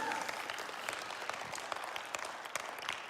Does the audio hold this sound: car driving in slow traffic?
no